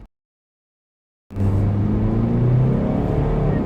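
A 2016 Subaru XV 2.0 i-P with a CVT gearbox pulls away after a brief silence, its engine and transmission giving a steady, close drone with a faint whine layered over the road rumble.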